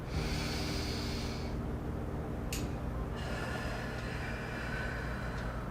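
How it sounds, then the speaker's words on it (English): Slow, deep breathing during a morning yoga stretch: one long airy breath, a pause, then another drawn-out breath, close and breathy over a steady background hum, with no speech. "And always deep breathing."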